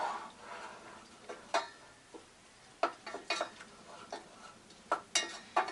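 A spoon stirs a cranberry ketchup mixture with a little water in a pot, giving irregular scraping clinks and taps against the pot, close and fairly quiet, with no talking.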